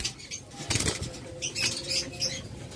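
A pair of albino Fischer's lovebirds beat their wings in quick, close fluttering bursts, several rapid flurries of flapping with brief pauses between, fairly faint with no voices.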